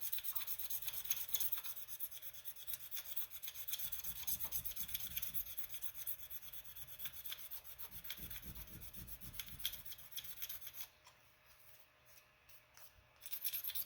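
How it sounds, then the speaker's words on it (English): A sharp razor blade scrapes steadily along a plastic model-aircraft propeller in rapid, quiet rasping strokes up close, pausing briefly near the end before resuming. "we are scraping away at this guy"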